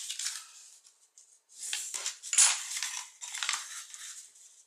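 Paper being creased and folded by hand while making a scrapbook album page, giving crisp rustling crinkles in several short bursts, close and fairly quiet, with no talking.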